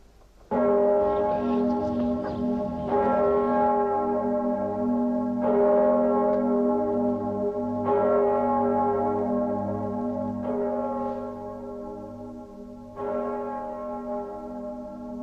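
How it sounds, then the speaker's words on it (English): Church bells ring out loud and resonant, striking in a slow, regular rhythm with each rich tone ringing on into the next, and no voices. "The bells. Ring the bells."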